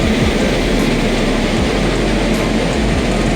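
WAP-7 electric locomotive hauling the Visakhapatnam–Araku passenger train (number 58501), a loud, steady, close rumble and roar that holds without break.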